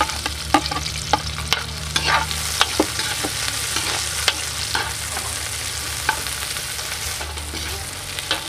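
Onion fries in a pan for chicken binakol after the garlic, giving a close, steady sizzle. Sharp scrapes and clacks of stirring punctuate it at irregular intervals.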